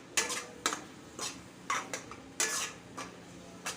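Rava mixture for mango laddu being stirred in a pan, a series of quiet, irregular scrapes and metallic knocks of a spoon against the pan, nearby and with no talking.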